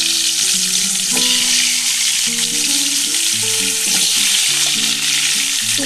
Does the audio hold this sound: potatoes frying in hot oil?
yes